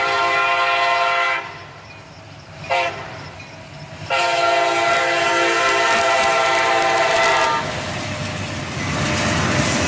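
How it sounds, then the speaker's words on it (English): A freight train led by a Norfolk Southern locomotive rolls past a gas station in Carlisle, its engine roar loud and steady with a sustained horn blast, easing briefly before the rumble returns for the rest of the pass. "we're at the gas station in Carlisle to catch this train with the Norfolk Southern leader"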